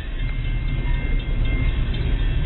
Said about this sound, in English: We can't get there because there's a train!